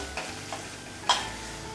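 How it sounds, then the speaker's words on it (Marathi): Crushed ginger and garlic sauté in a pan for soya kheema, giving a soft, steady sizzle with a few faint stirring scrapes and one brief clink of a utensil, close and quiet, with no voices. "ठेचलेलं आलं आणि लसूण आहे यासाठी मी एक सात ते आठ लसूण पाकळ्या आणि अर्धा इंच आलं घेतलं होतं हे एखाद मिनिटभर परतूया"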